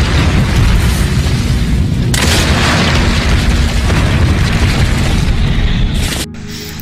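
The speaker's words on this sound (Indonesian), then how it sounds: "Thomas berhasil meledakkan bom di gudang bahan bakar." A bomb goes off at a fuel depot in a war film, a loud sustained roaring blast with rumbling debris that holds for about six seconds before cutting abruptly to a quieter low rumble.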